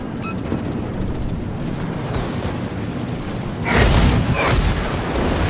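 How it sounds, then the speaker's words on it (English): Bomb explosions in World of Warships, Tier 8 cruiser Atago: a steady roar of engine and sea noise, then a deep, loud booming blast partway through that rumbles on. "he does manage to land one bomb on us with those bad bombers"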